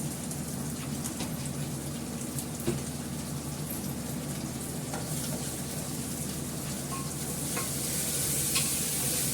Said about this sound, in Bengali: আলু আর পেঁয়াজটা একসঙ্গে ভাজা হচ্ছে।